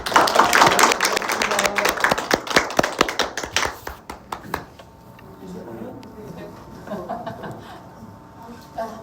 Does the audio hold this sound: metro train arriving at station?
no